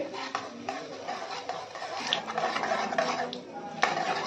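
A spoon stirs asafoetida, fenugreek seeds and cumin in hot oil in a pan, making light scraping and clinking sounds with a faint sizzle. Sharper metallic taps break through at intervals.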